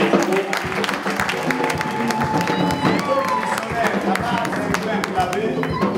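A church congregation applauds missionary Sister Clara with dense, steady clapping that fills the room for several seconds, while voices carry on over the clapping.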